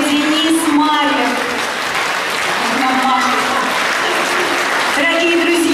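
A concert hall audience applauds an orchestra after a tuba performance, dense and steady clapping throughout, with a voice speaking over it.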